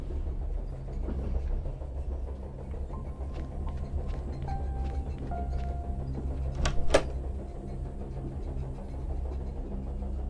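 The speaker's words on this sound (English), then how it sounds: "It's cold enough on this train. A window looking out into the night. The train's moving fast." Train moving fast at night in the video game The Charnel House Trilogy, a steady low rumble of the carriage with faint rattling, a few soft tones and a brief clatter partway through.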